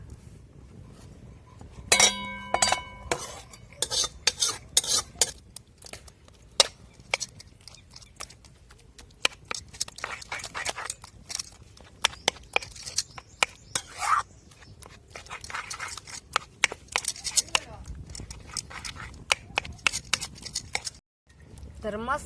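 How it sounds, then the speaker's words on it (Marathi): A utensil mashes cooked sour chuka greens in a pot, giving close, repeated metallic clinks and scrapes in uneven bursts, with a few brief quieter pauses. "आपण अशी भाजी अशी मस्त घोटून घेतलेली पा"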